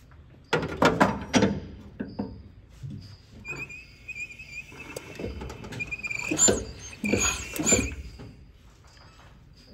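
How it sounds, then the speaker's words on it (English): A 1928 Ford Model A engine is cranked over by hand, giving a loose series of clanks and mechanical knocks with some squeaky metallic scraping, fairly close and moderately loud, with no speech over it. "Just for fun, I think I'll crank it over by hand this time."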